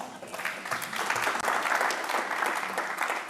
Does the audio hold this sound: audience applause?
yes